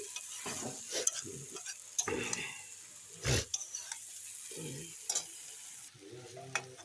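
Kabuli chickpeas stirred slowly in a hot, lightly sizzling pan, with scraping spoon strokes and soft clatters in an irregular rhythm, close up, no one speaking.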